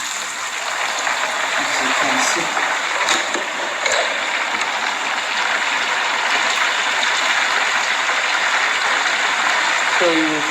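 Meat sizzling and frying in hot oil in a pot while cooking beans, a steady loud crackling hiss that runs the whole time, with brief kitchen knocks.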